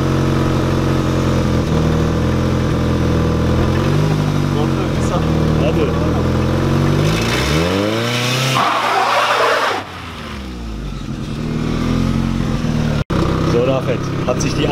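Tuned VW Lupo 1.8T with a GT28 turbo revving hard near the microphone, engine note climbing and falling before a launch, with people talking over it throughout.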